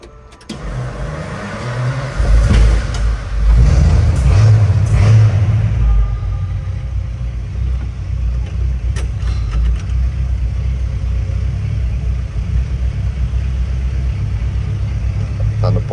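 A 1981 Ford F100 V8 pickup, lowered, cranks over and catches, then settles into a loud, steady low rumbling idle that runs on alone.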